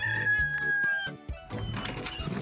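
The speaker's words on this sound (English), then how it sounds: "almost before the rooster did his early morning wake-up call" A rooster crows its early morning wake-up call, one loud, close, drawn-out cock-a-doodle-doo followed by a few clucks and farmyard rustling, with no voices.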